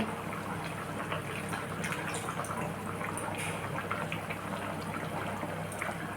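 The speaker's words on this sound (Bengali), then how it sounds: "এবার আমি পরিমাণ মতো জল দিয়ে খানিকক্ষণ ফুটিয়ে নিয়ে ফিরে আসছি" Bengali chicken curry simmering after water is added, a continuous dense bubbling and watery churn close by, steady level throughout, no talking.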